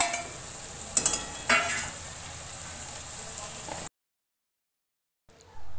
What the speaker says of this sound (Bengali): এবারে এক এক করে মশলাগুলো দেব দিয়ে এটাকে সুন্দর করে কষে নেবো